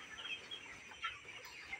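Broiler chickens on a poultry farm cluck and cackle in a soft, continuous flock chorus at moderate distance, with no talking.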